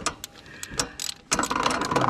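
A socket wrench ratchets in short clicking bursts while loosening a 15 mm serpentine belt tensioner bolt on a Chrysler 2.7 engine, close up, with a denser run of clicks toward the end.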